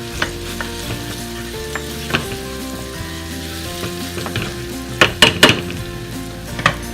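Garlic, onions and jalapenos frying in a pan with a steady close sizzle, under light stirring and scraping from a knife or utensil, plus a cluster of sharper metallic scrapes near the end.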